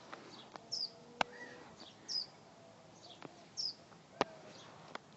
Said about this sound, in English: there's birds outside. Sorry about the noise.